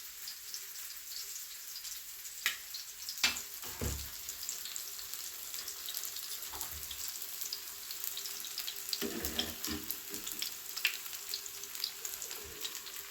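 Eggplant pieces fry in oil in a pan, a continuous soft sizzle and crackle punctuated by occasional louder pops and clinks, close by, with no talking.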